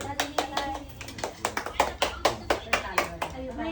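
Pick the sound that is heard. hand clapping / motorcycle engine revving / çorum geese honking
hand clapping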